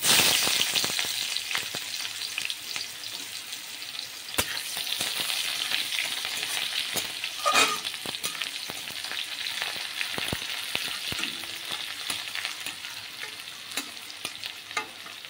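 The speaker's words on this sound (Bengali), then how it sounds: "ফোড়নে দিব কালো জিরে আর একটা শুকনো লঙ্কা। এখন দিব কুচনো পেঁয়াজ।" Chopped onion fries with black cumin and a dried chilli in hot oil, giving a loud, steady crackling sizzle throughout with occasional stirring clicks, close by and without any talking.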